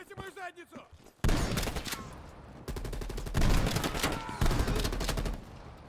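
Heavy, close weapon fire in a Call of Duty: Cold War campaign mission, coming in several loud bursts after a brief stretch of talking, with a shotgun in use among the rapid shots.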